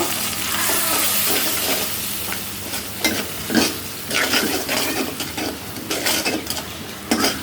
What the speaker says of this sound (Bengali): মশলাটা এখন একটু কষানো হবে